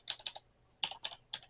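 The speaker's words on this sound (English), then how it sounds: "Nice, nice sound, nice action." Bursts of quick, crisp keystrokes come from a Magegee STAR 100 96% mechanical keyboard, two short clusters of clicky typing separated by a pause, close and fairly quiet.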